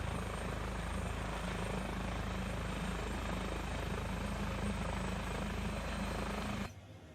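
Eurocopter EC145 air ambulance helicopter in a flight simulator game, its engines running up with a steady, dense turbine whine and rotor drone that holds constant for several seconds before abruptly dropping away.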